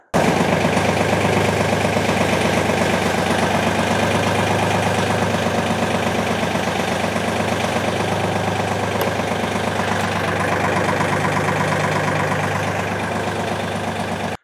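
A tractor engine runs steadily and loudly close by while its three-point hitch lifts a trailer hitch, with a continuous rumbling throb and a slight variation in the middle and no voices.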